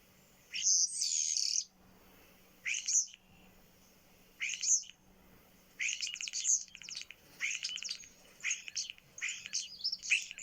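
Bursts of high, whistling and chattering European starling calls repeat in clusters, some rapid and buzzy, standing out clearly against a quiet background.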